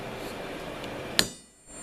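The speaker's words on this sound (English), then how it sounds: "I like to center punch them." A single sharp metallic tap rings out as a center punch is struck into a steel tooth cut from a ruined crosscut saw, short and close over a low background hum.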